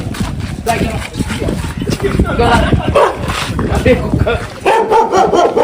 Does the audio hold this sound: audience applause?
no